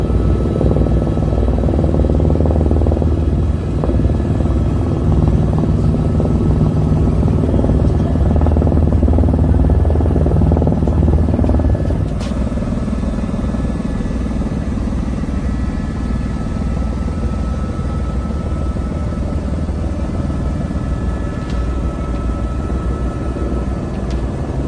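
A helicopter flies close by, its engine and rotor making a loud, dense, continuous roar that changes character midway and then carries on steadily.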